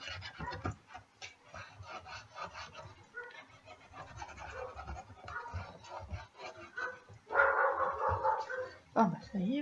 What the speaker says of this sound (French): Ah bah ça y est, le chien commence à s'énerver.